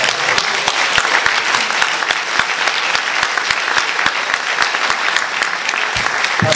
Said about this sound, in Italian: L'applauso potrebbe essere anche più grande per il GIS